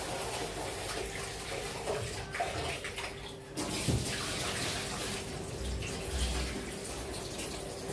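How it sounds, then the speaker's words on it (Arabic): Rice being washed in water in a home kitchen, with steady close sloshing and rushing water that varies in intensity, and no speech. "بغسل الرز"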